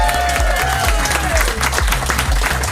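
Audience applause for a guest DJ during a trance radio show, brief clapping and crowd noise mixed with loud rhythmic electronic music and its pulsing bass.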